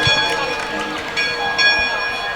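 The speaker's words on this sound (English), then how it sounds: "And you'll hear that touchdown bell." A touchdown bell rings at a high school varsity football game, Indian Hill vs New Richmond, its sustained metallic tone sounding under crowd noise and an announcer's commentary.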